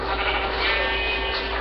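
Continuous sheep bleating from Minecraft, steady and moderately loud with a hum beneath, no talking.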